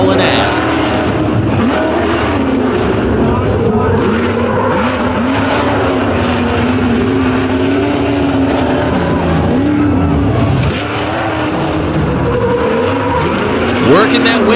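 A Ford monster truck with a Windsor engine races around a turn, its engine roaring loudly and steadily throughout, the pitch rising and falling under an excited commentator's voice.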